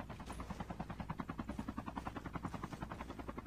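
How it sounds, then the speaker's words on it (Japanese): A pink helicopter in the mobile battle royale game Call of Duty Mobile thrums with a steady, fast rotor chop, a continuous pulsing whir that stays fairly close and even throughout. "猛獣とはちょっと似つかわしくない、このピンクのヘリ"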